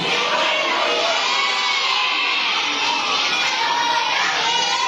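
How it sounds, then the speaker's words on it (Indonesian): An audience at a live religious text memorization contest applauds and cheers for the participants, a steady, loud wash of clapping and shouting voices that holds evenly from start to finish. "Tepuk tangan untuk para peserta MTM Ibridi."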